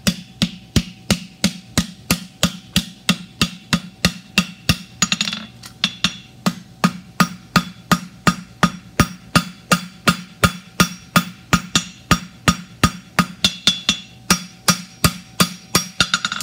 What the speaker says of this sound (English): I'm just gonna use the heel of my hammer and pull towards that corner.